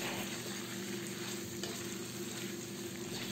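Chicken and potatoes seasoned with soy sauce sizzle steadily in a pan while being stirred, a close, continuous frying hiss with faint scraping.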